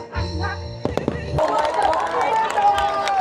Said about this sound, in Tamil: கண்டினியூஸாக வெடியை போட்டு பட்டையை கிளப்புறாங்க.